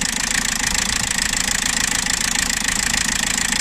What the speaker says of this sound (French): c'est un moteur qui ne tourne pas rond